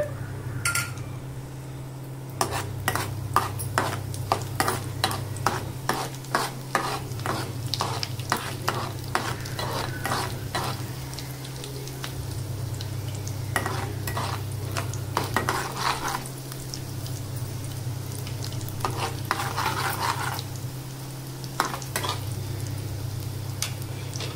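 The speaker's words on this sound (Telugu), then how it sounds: "ఇప్పుడు నూనె వేసుకున్నానండి కొంచెం తిరుమల దినుసులన్నీ ఇందులో వేసేసుకుంటున్నా" Tempering spices sizzle steadily in hot oil in a pan, cooked for omelette gravy, while a spoon scrapes and clinks against the metal in a busy, repeating stirring rhythm, close and fairly loud throughout.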